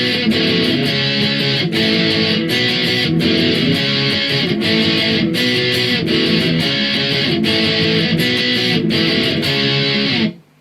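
Distorted electric guitar plays a riff from a song, loud and rhythmic with repeated chugging strums and regular accented hits, then stopping abruptly at the end.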